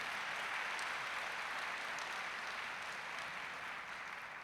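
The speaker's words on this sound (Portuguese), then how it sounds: "Vamos dar um aplauso ao Senhor por isso, em nome de Jesus." Applause from a church congregation at a Sunday family service, a steady dense wash of clapping that holds evenly for several seconds and eases only slightly toward the end.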